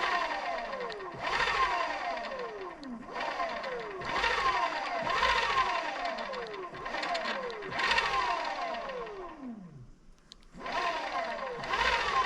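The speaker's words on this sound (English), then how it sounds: "you could hear the motor going, but this thing wasn't spinning" A Bafang BBSHD e-bike mid-drive motor under repair revs up repeatedly in short bursts, each one whining and then winding down with a falling pitch, with brief pauses between runs.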